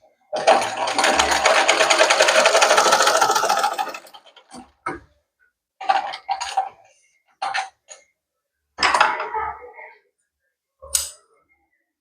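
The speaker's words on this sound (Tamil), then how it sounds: "துணியெல்லாம் இழுக்காதீங்க, இழுக்காமல் தைக்கப்படலாம்." A sewing machine stitching fabric in one continuous close, loud whir for about four seconds, followed by a few short, separate bursts of stitching and clicks with silence between them.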